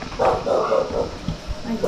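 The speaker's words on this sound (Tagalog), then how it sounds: "May aso din dito." A dog barks several times in quick bursts close by, mixed with people talking.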